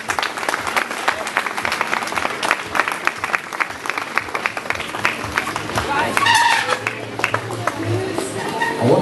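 An audience applauds at the elite super final of a competition in Clisson, a dense steady clatter of clapping under a commentator talking over the crowd.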